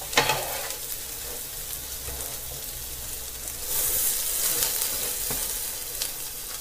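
Two-ingredient flatbread fries in a pan with a steady, close hiss and crackle that swells slightly midway, with small pops and no talking.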